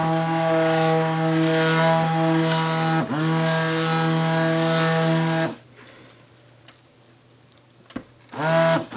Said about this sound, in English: this really needs to be stick blended